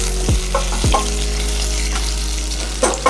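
Crumbled ingredients go into hot oil in a pan with urad dal, dried red chillies and curry leaves for beans paruppu usili, giving a steady close sizzle with a couple of scraping stirs near the start and no talking.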